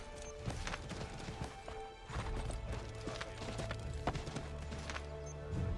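Horse hooves clip-clop steadily in Assassin's Creed 3, a quick continuous trot up close, with a brief neigh mixed in among thuds and other game sounds.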